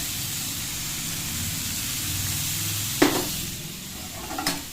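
Fish and green chillies are stirred in a frying pan for a raw banana dish, giving a low steady sizzle with a couple of sharp clinks and scrapes near the end. No speech is heard.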